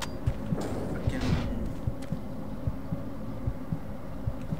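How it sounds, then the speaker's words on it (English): A steady heartbeat effect in the video game Doom 3 BFG thumps in a regular low double-beat rhythm, loud and continuous beneath a droning ambient hum. "What is with the damn heartbeat?"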